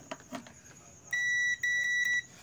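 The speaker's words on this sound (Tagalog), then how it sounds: "Ngayon, gagamit tayo ng buzzer." Electronic beeping from a buzzer tester checking a Bluetooth speaker with no sound, three steady high-pitched tones with short gaps, after a few quiet clicks and rustles.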